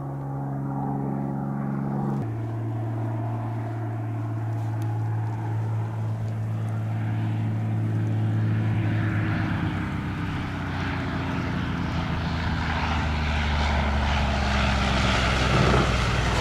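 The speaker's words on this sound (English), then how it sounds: "Happiness is seeing a plane coming in." A small propeller plane approaches to land at Gates of the Arctic National Park in Alaska. Its steady engine drone builds and grows louder over about sixteen seconds, with no talking.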